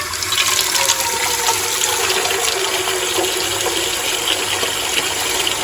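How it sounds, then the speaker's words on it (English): Tap water gushes steadily into a big cooking pot, a continuous loud splashing rush with no talking. "fill up our big pot with water so we can start boiling our noodles"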